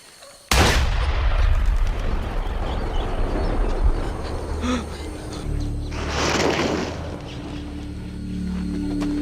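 Gunfire into the air in a Rambo film scene: one sharp, loud blast, then a rumbling tail and a second burst, under a low droning background.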